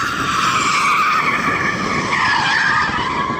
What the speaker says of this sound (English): Here's a little clip of him sliding a car that you wouldn't think would drift,